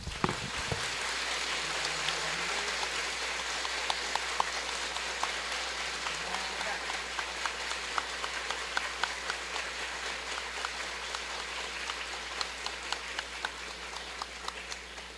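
Audience applause at a Spiritist talk, a steady dense wash of clapping that fills the whole stretch at even loudness, with no voices over it.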